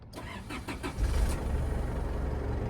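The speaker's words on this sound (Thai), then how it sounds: "ทีนี้เดี๋ยวเรามาสตาร์ทฟังเสียงเครื่องยนต์กันหน่อย" A 2013 Isuzu D-Max Hi-Lander 2.5 VGS pickup diesel engine cranks with rhythmic starter pulses for about a second, then fires and runs at a heavy, steady idle nearby.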